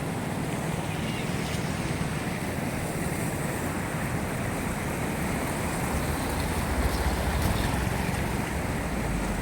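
Fast-flowing flood water rushes past a bridge that is close to going under, a steady broadband roar with wind buffeting the microphone throughout and no pauses.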